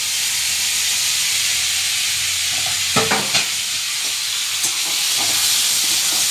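Dry red chillies, bay leaves and five-spice seeds sizzle in hot oil as a tempering for khichuri, a continuous close hiss broken by a few sharp clinks of stirring near the middle.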